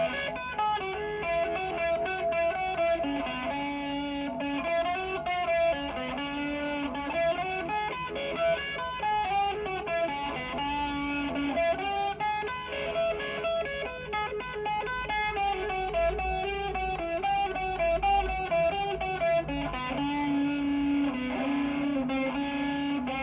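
Electric guitar, a Gibson SG Jr or Epiphone SG Special, played through its bridge pickup with a driven, effects-laden tone; sustained chords and riffs ring steadily and loudly for the whole stretch, with no talking.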